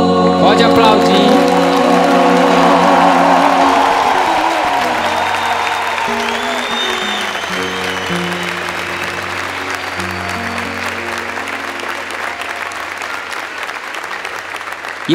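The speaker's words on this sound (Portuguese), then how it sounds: "Pode aplaudir" A congregation applauds during Mass at a Catholic youth camp. The clapping starts loud and full over lingering sung or musical tones, then slowly thins and fades across the stretch.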